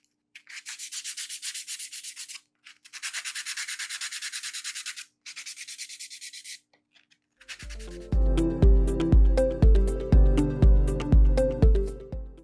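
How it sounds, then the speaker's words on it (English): Sanding block rubbed back and forth over the end grain edges of wood pieces, steady raspy strokes in bursts with pauses, close and alone, followed by a few seconds of rhythmic musical beats. "Next, I'll begin sanding my wood pieces."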